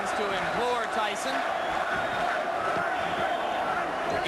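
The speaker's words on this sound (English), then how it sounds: "Now the crowd begins to implore Tyson" Boxing arena crowd during a Mike Tyson fight, a dense roar of shouts and urging voices, steady and loud throughout with a few sharper calls rising above the din.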